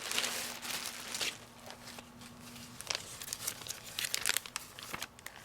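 Flat pack wrapping paper is handled up close, crinkling and rustling in irregular bursts with a few sharper crackles, fairly soft overall and with no talking.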